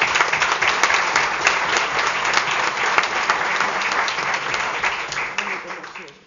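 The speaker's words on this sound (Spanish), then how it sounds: "un aplauso también para Ángel Rodríguez Serrano." A crowd at a mayoral investiture ceremony in the town hall breaks into steady, dense clapping that fills the room and fades slightly toward the end.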